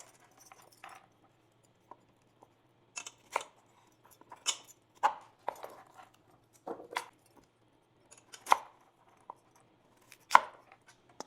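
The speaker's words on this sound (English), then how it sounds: "And then the sweet potatoes, I'm gonna cut them differently than the carrots, just so that you can identify them" Knife chopping sweet potatoes on a cutting board, a series of sharp, crisp thuds at uneven intervals, close and clear against a quiet kitchen.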